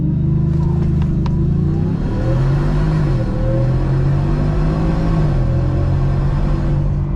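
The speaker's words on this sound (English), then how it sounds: "We'll do a brake rev. Let's see what happens." A supercharged 2025 Ford F-150 in sport mode with four-wheel drive high holds a loud brake rev, its engine droning and rising before launching hard in a deep, continuous roar up close.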